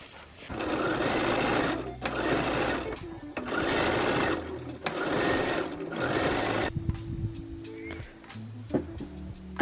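A sewing machine stitches ruffles onto a small summer waistcoat, running in about five steady bursts of close, loud stitching separated by brief pauses, then quieter handling.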